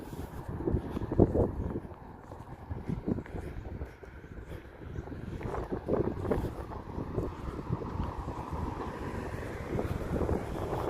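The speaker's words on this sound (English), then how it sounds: "The wind picking up all of a sudden." Outdoors beside a garden, gusty wind rises suddenly and buffets the microphone with rumbling, uneven low roars that swell and ease over several seconds.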